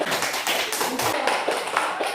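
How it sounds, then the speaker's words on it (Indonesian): A classroom of students claps together, a dense, steady burst of hand claps filling the whole stretch at close range, with no voices standing out. "Ya, tepuk tangan"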